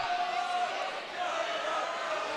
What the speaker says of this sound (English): And the crowd is singing.